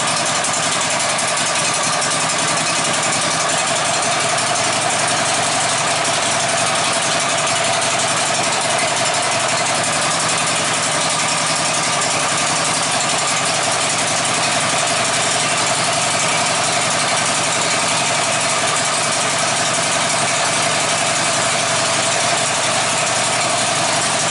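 A Woodmizer LT15 sawmill engine idles steadily at close range while warming up, a constant droning hum with mechanical rattle that barely changes throughout, no voices.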